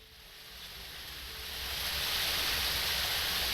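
Loud rushing water in a modded video game, a broad steady roar that swells louder partway through and then holds, with no talk over it.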